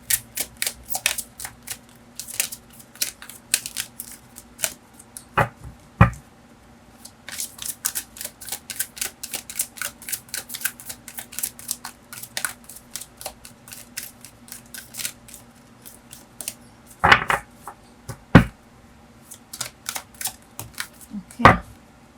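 Oracle cards being shuffled by hand, close-up riffling and snapping in uneven bursts with sharp card slaps throughout, sustained over many seconds in a quiet room.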